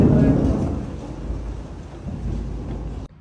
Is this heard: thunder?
yes